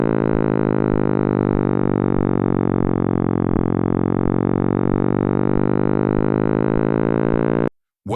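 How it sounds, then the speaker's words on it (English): Cosmic microwave background radiation turned into sound: a steady, dense droning tone with many stacked harmonics, sustained evenly for about eight seconds with faint regular low pulses beneath, then cutting off abruptly. "What you're hearing is the cosmic microwave background, the faint echo of creation"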